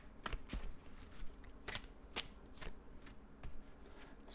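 A deck of tarot cards riffled and cut several times up close, giving crisp bursts of papery flutter and slaps in an uneven rhythm, with no talk.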